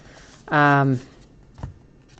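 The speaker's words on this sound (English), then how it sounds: "I'm trying to like give it an extra little shuffle from the backside" A stack of football and baseball trading cards gets a quick riffling shuffle, one short dense burst of flicking card edges, followed by a soft tap; people talk around it.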